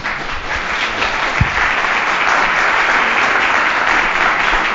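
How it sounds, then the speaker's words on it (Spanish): A panel audience gives a full, steady round of applause for the panelists, a dense wash of clapping that holds evenly throughout with no talk. "Vamos a dar un nuevo aplauso para los panelistas, por favor."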